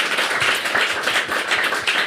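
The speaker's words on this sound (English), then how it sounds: "Please give her a warm round of applause." An audience at a panel event applauds a newly introduced panelist, steady dense clapping from a modest crowd, moderately loud and continuous for a couple of seconds.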